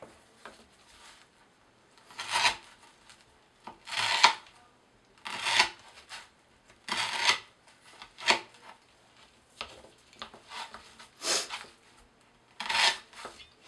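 A Strider SMF folding knife with an S30V steel blade saws through rope in a series of about nine rasping, fibrous strokes, each a short burst of scraping with brief pauses between, close to the microphone.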